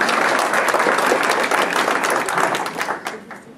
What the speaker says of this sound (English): So for that, I would like to just give them a round of applause.